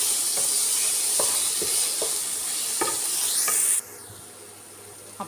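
Ginger, garlic and green chilli paste sautés with onion in a pan, a constant close sizzle broken by several scraping stirs. The frying hiss drops suddenly near the end, with a last small clink.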